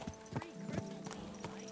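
Horse hooves clip-clop at a steady walking rhythm while riding in Kingdom Come: Deliverance 2, close and clear, with a few sharp hoof strikes spaced about every third of a second.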